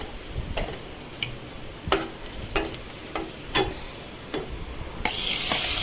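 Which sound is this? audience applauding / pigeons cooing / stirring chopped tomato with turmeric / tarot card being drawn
stirring chopped tomato with turmeric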